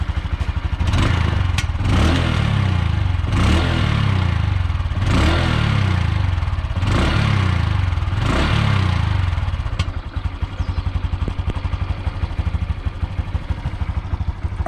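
Honda Super Cub C125 (2020) being ridden, its mid-pitched engine note near and steady, with a series of rhythmic whooshing surges every couple of seconds, then a smoother, quieter cruise toward the end.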